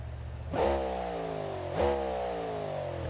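Quiet car engine exhaust in BeamNG Drive, two short revs roughly a second apart, each rising then settling back to a low muffled idle hum.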